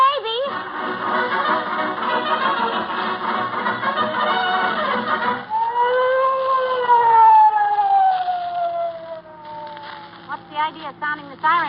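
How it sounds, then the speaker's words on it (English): A police siren sound effect from a radio comedy wails loud and steady, its pitch rising and falling, then winds down and fades while voices talk over it. "What's the idea of sounding the siren, Officer Mahoney?"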